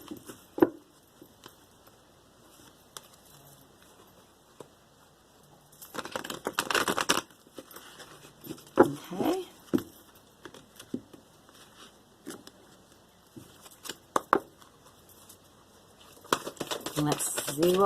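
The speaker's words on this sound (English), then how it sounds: "So I'm going to give this 3 shuffles." A deck of oracle cards is shuffled three times, giving soft papery riffling bursts with quiet stretches between them and occasional light taps and handling noises.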